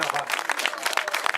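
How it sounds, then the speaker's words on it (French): Crowd applause and scattered clapping for the winner of a cyclo-cross race at St Thurial, close and lively, with voices talking over it throughout. "Applaudissements"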